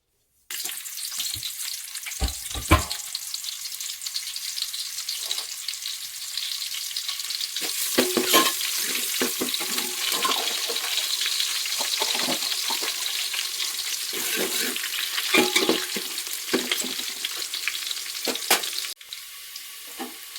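Onion, cucumber, carrot, capsicum, potato and brinjal fry in a pan with a steady close sizzle, broken by sharp clatters and scrapes as the vegetables are stirred.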